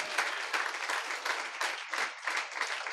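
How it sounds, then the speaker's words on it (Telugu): A church congregation at a Christmas gathering claps loudly in praise, a steady, dense round of applause from many hands, close and sustained throughout. "గట్టిగా చప్పట్లు కొట్టి ప్రభుని స్తుతించండి."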